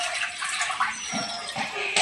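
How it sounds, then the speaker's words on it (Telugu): Water poured into a pan before boiling, part of cast iron seasoning, giving a steady broadband rush and splash throughout, fairly loud and close, with no talk. "ఇప్పుడు వాటర్ వేసుకుని ఒక దాంట్లో"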